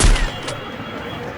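Gunfire in a shooting video game opens with a sharp, loud shot burst, then gives way to a faint, muffled tail of game background noise.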